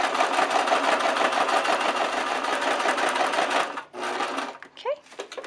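Sewing machine back-stitching through crepe paper, running in a fast steady whir up close for several seconds before stopping, followed by a brief short burst.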